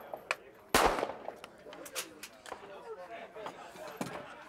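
A Ruger-57 pistol firing 5.7x28 ammunition outdoors, one sharp loud report near the start, followed by softer sounds and voices talking in the background.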